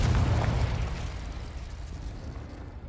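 A Confringo explosion spell goes off in Hogwarts Legacy, a loud booming blast at the start that rumbles and fades over a few seconds.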